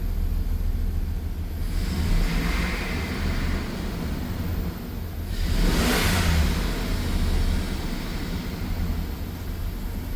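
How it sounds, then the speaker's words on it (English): A car engine with a stuck spark plug fault is revved hard under a steady broadband roar, with one surging rev swelling loudly near the middle before settling back to a sustained drone. "That big rev seemed to do the trick."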